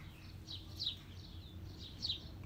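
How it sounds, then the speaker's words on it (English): Sparrows chirping in garden trees and at bird feeders, a few faint, short chirps scattered over quiet outdoor background hum. "Birds busy in the trees and the feeders whilst we're doing that."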